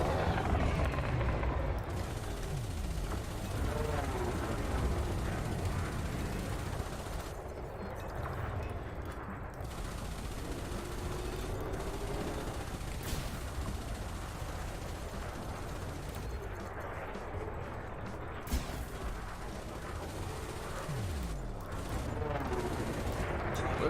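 Wingman gunfire in Elite Dangerous, a steady rumbling stream of spaceship weapon fire and blasts behind a continuous cockpit drone, with voices talking over it.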